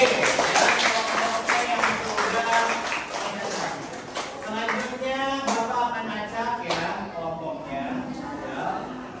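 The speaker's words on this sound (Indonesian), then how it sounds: "tepuk tangan untuk kelompok D" Clapping from a class of students for group D bursts out at the start, then fades as a nearby voice speaks over the remaining patter.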